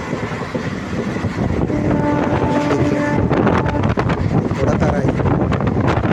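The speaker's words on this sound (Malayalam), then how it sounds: "ഇതങ്ങനെ എവിടെ സ്റ്റോപ്പില്ലാത്ത വണ്ടിയാണ് കേട്ടോ. സൂപ്പർ ഫാസ്റ്റാണ്." A non-stop superfast express train in Kerala rumbles loudly and continuously from inside the carriage, with wind rush and rattling wheel noise throughout, and there is no voice.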